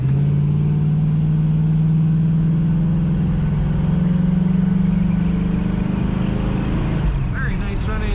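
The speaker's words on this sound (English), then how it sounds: "Very nice running Firebird. Excellent exhaust note." A 1968 Pontiac Firebird convertible's engine idles with a deep, steady exhaust rumble that rises slightly in pitch, then fades near the end as faint voices come in.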